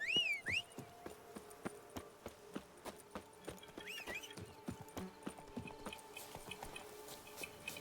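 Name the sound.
Roach the horse galloping, from video game Witcher 3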